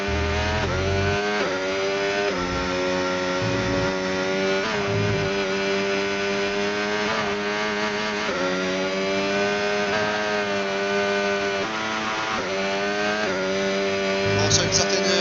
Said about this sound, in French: Et là on a Gaël qui lance un nouveau tour.